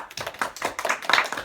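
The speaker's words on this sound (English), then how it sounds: "Applause for Courtney." Brief, scattered clapping from a small audience at a bilingual employee panel in Kansas City, a handful of distinct, close hand claps in quick uneven succession without talk.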